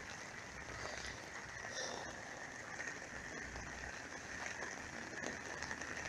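Heavy rain pours steadily in a dense, even hiss with no break, close and fairly loud throughout.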